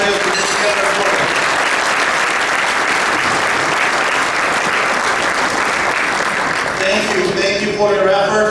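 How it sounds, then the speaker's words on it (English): A dinner audience at a community banquet gives a long, dense round of applause, loud and sustained throughout, with a voice speaking over the clapping near the end. "Can I get a good round of applause for those volunteers who put together this program?"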